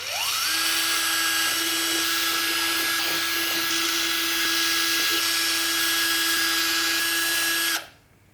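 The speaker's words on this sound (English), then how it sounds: "Here, I'll be using a 3mm diameter drill bit." A 3mm drill bit bores holes for an airframe build, the motor whining up quickly and holding a steady high-pitched drone for about seven seconds before spinning down abruptly, loud and close with no talking.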